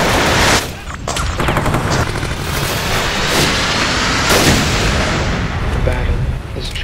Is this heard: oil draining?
no